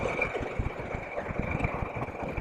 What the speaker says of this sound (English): I will change my bike to sport mode because it's more fun, and we go for a ride.